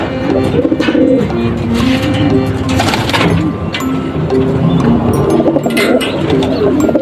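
Racing pigeons cooing close by after returning from a race, several overlapping low throaty coos repeating over a busy background of fluttering and bird chatter.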